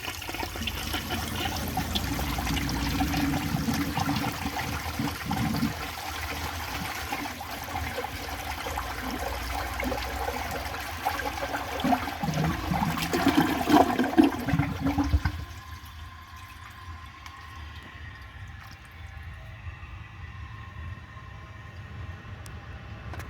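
A 1964 Gerber Mt Vernon toilet flushes a washcloth down: a loud, rushing flush of water swirls and gurgles for about fifteen seconds, then drops suddenly to a quiet trickle as the tank refills.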